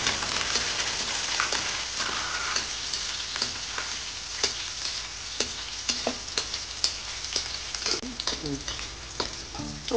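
Garlic and meat stir-frying in oil give a continuous sizzle with sharp pops and the clatter of a spatula against the wok, close and fairly loud.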